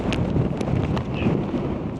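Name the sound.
wind blowing at a Lake District campsite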